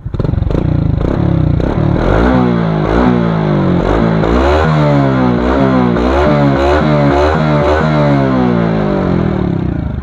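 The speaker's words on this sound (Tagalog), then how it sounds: "Suzuki Smash. Stock exhaust, sound check." Stock exhaust of a Suzuki Smash FI motorcycle revved repeatedly, loud and close, with rising and falling engine pitch in quick successive blips over a steady idle and no talking.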